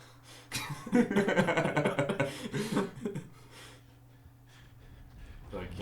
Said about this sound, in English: Panting, I like the panting.